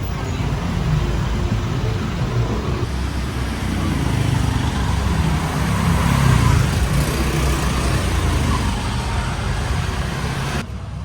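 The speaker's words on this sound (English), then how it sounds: "So it's even more difficult with all the traffic" Busy road traffic in Kuta, Bali, makes a constant, loud roadside roar of passing cars and engines, a dense wash of noise that swells and fades without a break, and a few voices talk underneath.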